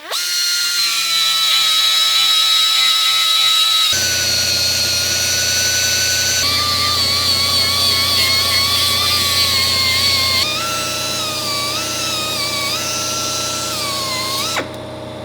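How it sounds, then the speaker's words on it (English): A power tool grinds down welds on a 1969 Chevy C-20, a loud continuous high whine close by that shifts pitch several times as it bears on the metal, with no talk. "Right now we're just gonna knock down the tops of these welds and then probably hit it with the DA"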